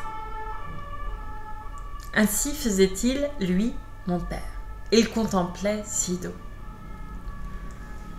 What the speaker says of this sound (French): Pardon pour la sirène.